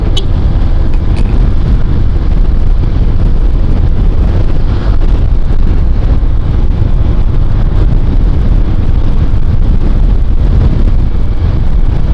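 Strong wind buffets the microphone in a constant low rumbling roar for the whole stretch, loud and unbroken, with no voices.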